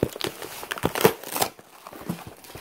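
Cardboard and plastic packaging of a Red Dragon gaming mouse is torn and crinkled open, a close run of sharp rustles and rips that quiets after a loud burst.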